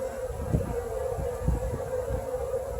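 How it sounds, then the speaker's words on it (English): Honey bees buzz steadily around a hive as young bees make orientation flights in early autumn, a continuous near drone with a sustained tone and small swells in loudness. "New bees doing orientation flights."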